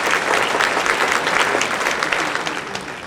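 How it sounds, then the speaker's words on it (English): Steady, loud applause from a theater audience at a band concert fills the room, a dense wash of clapping that holds throughout and eases slightly near the end. "Let's have another big round of applause for our special guests"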